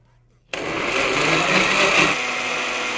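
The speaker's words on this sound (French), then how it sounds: "Maintenant, je vais fermer mon mixeur et bien mixer tout cela." A kitchen blender starts abruptly and runs steadily at high speed, mixing homemade fromage frais with milk and salt, a loud continuous whir that shifts slightly in tone as the thick mixture churns.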